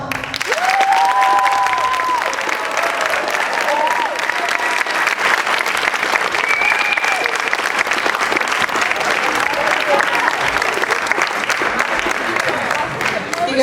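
Audience at a comedy hypnotist show on a high school grad night applauding, loud continuous clapping from a large crowd with scattered cheers and voices throughout.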